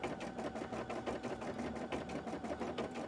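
A sewing machine stitches with a rapid, evenly pulsing rhythm, heard close but fairly quiet, continuous throughout without speech.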